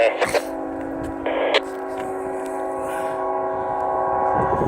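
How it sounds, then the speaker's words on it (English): A passing train rumbles with steady tonal horn-like drones and rattling clanks, close and continuous, with train radio chatter bursts early on. "So here's our train coming here."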